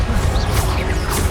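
A Confringo blasting spell goes off in the video game Hogwarts Legacy, a brief dense burst of whooshing, crackling impact noise layered over a low rumble.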